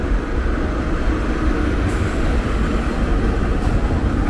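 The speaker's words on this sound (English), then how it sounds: "That's an old train, man." An old 1980s-era train passes near the Longfellow Bridge and the Charles River Esplanade path in Boston, producing a loud, continuous low rumble and roar that stays even throughout, with two faint high clicks.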